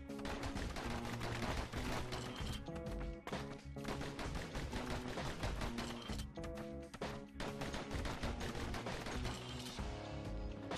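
Rapid pistol gunfire from the video game Bastion, dense repeated shots layered over continuous game music and effects, loud and sustained with only brief dips.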